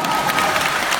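A concert audience at a live show bursts into applause, a dense, loud wash of clapping with a hint of cheering, brief and unbroken.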